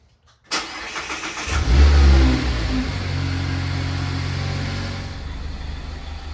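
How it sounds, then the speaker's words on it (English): A 2021 Mazda Miata engine cranks and catches with a sudden burst, flares briefly in a loud rev, then drops into a steady, close idle that continues to the end. "we're gonna start the car, let it get to operating temperature"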